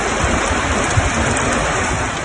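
Heavy rain pours in a dense, constant roar during a severe storm over flooded city streets in Córdoba, with a low rumble of thunder beneath the downpour.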